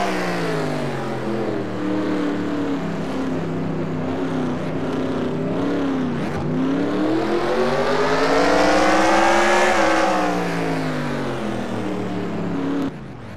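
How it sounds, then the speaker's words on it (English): Onboard race car engine at a Piston Cup stock car race in the Los Angeles Memorial Coliseum, loud and steady, the pitch sweeping down, climbing back up, then easing as the car brakes and accelerates through turns, no talk. "Now we have an onboard with Colin Bargan."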